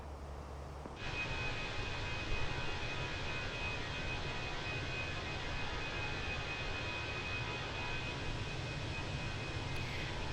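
A Fenix Airbus A320 in a flight simulator departs Tokyo on runway 34 left, its jet engines rising abruptly into a loud, steady, broadband roar that holds without a break to the end.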